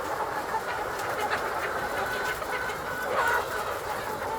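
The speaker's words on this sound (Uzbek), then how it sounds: "Holatlari shunaqangi tovuqlarimiz." A flock of laying hens clucks and murmurs together inside an unfinished poultry house, a dense, steady mass of overlapping bird calls filling the whole stretch at moderate loudness with no talk.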